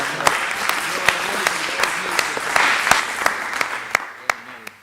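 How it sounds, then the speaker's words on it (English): A small group in a studio gives a round of applause, with dense clapping and sharp individual claps that stand out near the end before it fades. "I think that deserves a round of applause, bro"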